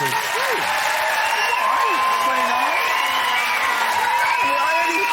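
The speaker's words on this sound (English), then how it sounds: "A round of applause for our losers." Studio audience applause with cheers and whoops on a comedy quiz show, loud continuous clapping while a voice talks over it.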